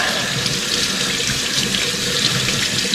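Potatoes are rinsed under a running kitchen tap, a steady, close, splashing rush of water into the sink that carries on without a break and without talking.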